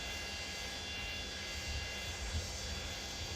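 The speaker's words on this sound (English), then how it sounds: "Then you have the beautiful sound of the engines." Boeing 727-200 freighter jet engines in the FlightSim Studio flight simulator, heard as a steady, fairly faint broadband engine roar with a constant whine, running evenly with no voices over it.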